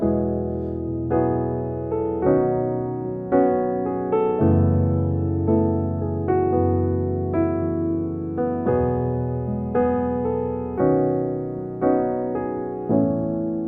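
Piano chords played one after another in a steady, even pulse, each struck and left to ring, moving through a simple progression with no voices.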